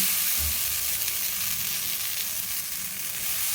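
Green chillies sizzle and fry in hot oil in a pan while moong dal pesarattu is made, a steady, close crackling hiss with a brief low bump near the start and no talk.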